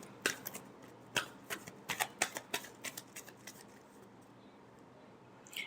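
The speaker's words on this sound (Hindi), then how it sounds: "Last shuffle." A deck of tarot cards being shuffled in a quiet room, about a dozen crisp riffling snaps arriving in quick irregular bursts, then a pause and one last flick at the end, close and fairly soft.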